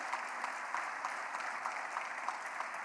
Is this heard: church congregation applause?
yes